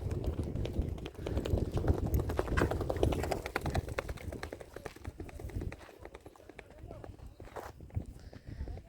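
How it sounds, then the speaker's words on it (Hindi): A friend's mare from Kutch with old-style tack walks with a rhythmic, rapid clip-clop of hooves, close and loud at first, then fading as someone speaks over it. "ये मेरे मित्र की घोड़ी है, बहुत ही काफ़ी खूबसूरत अच्छी चलती है।"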